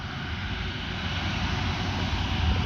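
Engines of an Airbus Beluga A330-743L cargo aircraft run steadily at Amiens airport during pre-taxi checks, a continuous broad, loud roar with no pauses.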